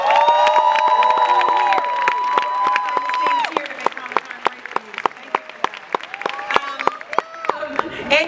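Loud audience applause and cheering in San Diego Comic-Con's Hall H during a panel for Netflix's The Witcher, with dense clapping, whoops and sustained crowd voices throughout.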